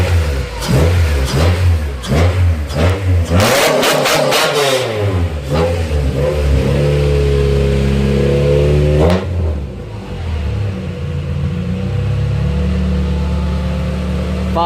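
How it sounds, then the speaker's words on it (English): A Prelude with a swapped Euro R engine revving hard in repeated rising and falling bursts at close range, with a fluttering sound from the intake. It then settles to a lower steady idle, with no talking. "Kind of like flutter noise. It's something in the intake."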